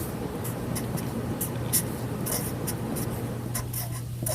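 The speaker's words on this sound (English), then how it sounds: "I'm just going to write on the top of the page" Pen or pencil writing across the top of a paper page during a math lesson, a soft scratchy rubbing in short strokes, close but quiet over a steady low room hum.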